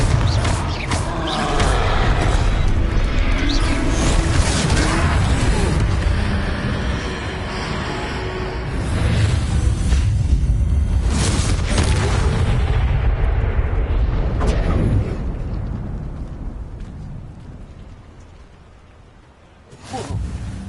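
Explosive fire spell cast in the video game Hogwarts Legacy during a troll fight, a loud sustained roar of bursts and rumbling layered with game sound, fading out before a final sharp pop.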